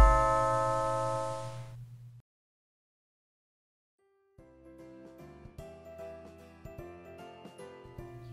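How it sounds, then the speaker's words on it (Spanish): A doorbell sound effect rings out once with a sustained tonal chime that fades, followed by silence, then soft music. "un escalofrío les recorrió el cuerpo cuando el timbre sonó"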